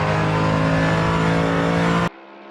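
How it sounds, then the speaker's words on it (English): A Mercedes-AMG car accelerates hard on a straight, its deep engine roar loud and sustained for about two seconds before cutting abruptly to a much quieter tone. "On the straight, the AMG bellows with that deep,"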